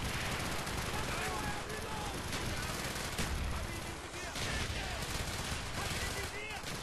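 Relentless gunfire from a 1940s-era weapon in the Call of Duty Black Ops campaign, rapid automatic bursts and overlapping shots in a chaotic battle, loud and dense throughout with a voice talking underneath.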